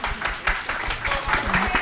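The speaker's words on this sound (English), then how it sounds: "Give her a round of applause." A brief burst of applause from a panel audience at a conference, clapping mixed with murmuring voices in a room.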